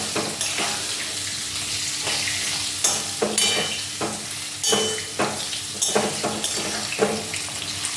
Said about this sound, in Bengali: একটু ভেজে নিই আলুগুলি